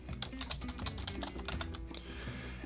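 A computer keyboard clatters under quick, steady typing of text, with a rapid string of close key clicks that stops near the end.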